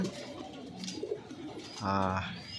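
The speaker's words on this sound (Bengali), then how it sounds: "মাশাআল্লাহ অনেকগুলো কবুতর আছে, ভালোই লাগে দেখতে।" Pigeons in a backyard loft give a soft, close coo that swells briefly near the end, over a low, steady background murmur.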